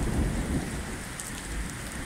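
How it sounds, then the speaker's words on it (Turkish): Heavy rain pouring steadily with a deep rumble of thunder underneath, a dense, continuous roar without any talk. "Nasıl bir yağmur bakın. Yağmur rahmettir."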